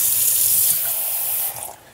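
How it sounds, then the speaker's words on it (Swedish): Tap water streams steadily into a bottle, a bright continuous hiss close by that drops off and fades after about a second and a half. "så lite kranvatten bara"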